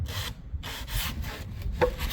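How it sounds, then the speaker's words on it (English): An electric sander rasps steadily against wood edges and a corner, a close, continuous gritty rubbing with slight pulses in intensity. "I'm sanding down the edges and down the corner"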